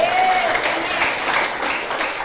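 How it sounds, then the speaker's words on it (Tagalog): A congregation claps together at an Ilocano preaching service, dense sustained applause from many hands at close range with a faint voice beneath it. "Palakpak kini Lord."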